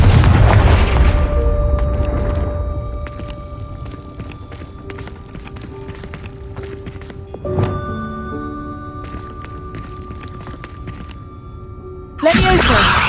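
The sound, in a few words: Confringo fire spell blasts in video game Hogwarts Legacy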